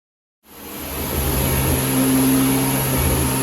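A Renault Clio 182 on a rolling road dyno starts up and revs, the engine note swelling quickly from silence into a loud, steady, close roar with a high whine riding on top, and no voices.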